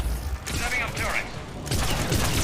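Mass Effect 3 turret gunfire rattles in dense, continuous bursts with heavy low-end thumps, running loud throughout under an overlapping voice.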